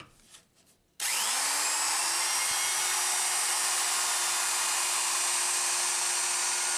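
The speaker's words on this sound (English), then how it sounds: "The bottom edge is getting eased with part of a 1/4 inch round over bit." Router fitted with a quarter-inch round-over bit easing the bottom edge of a wooden sewing machine table, spinning up abruptly after a moment of quiet and holding a loud, steady high whine close by.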